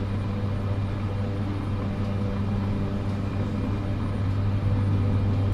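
Steady low droning roar of a Caravan turboprop engine at full takeoff power in Microsoft Flight Simulator 2024, a constant hum that builds slightly toward the end.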